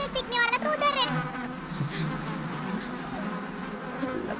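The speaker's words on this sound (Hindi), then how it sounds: "मधुमक्खियों ने हमारी तरफ U-टर्न ले लिया।" A swarm of bees buzzes loudly and densely, strongest in the first second with sharp surging drones, then settling into a steady hum with faint children's voices mixed in.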